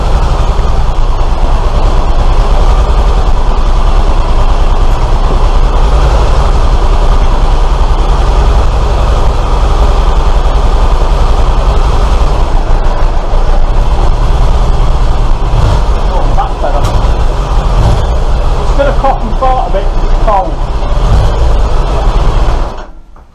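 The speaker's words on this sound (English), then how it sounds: "Typical Kawasaki, it revs its bollocks up on its own." A Kawasaki motorcycle engine with the choke on races and revs by itself, a loud, steady, rumbling drone that holds for the whole stretch before cutting off abruptly at the end.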